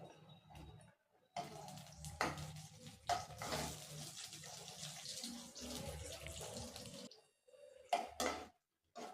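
Cashews roasting in ghee in a pan for temple-style sweet pongal, with intermittent sizzling and stirring that comes in bursts, separated by short quiet gaps.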